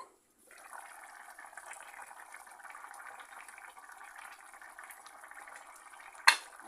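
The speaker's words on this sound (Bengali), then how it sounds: "এখন ঢেকে দিয়ে রান্না করব তিন চার মিনিট" Puti fish curry with radish simmers in a covered pan, giving a steady, soft bubbling hiss that holds evenly for several seconds, then a brief sharp clank near the end as the lid is likely moved.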